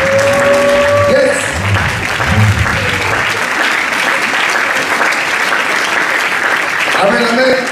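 Congregation applauding and acclaiming during an evening worship service in Paris, a loud, sustained wash of clapping from a crowd, with a voice and musical tones over it at the start.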